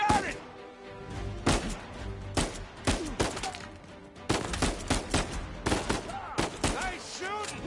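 Gunfire in a PS4 video game bursts out in loud, sharp volleys and rapid clusters of shots, with short pauses between them.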